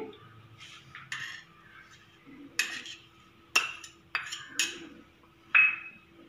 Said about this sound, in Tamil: முதல்ல இதை இந்த அவல் கூட மிக்ஸ் பண்ணுறேன்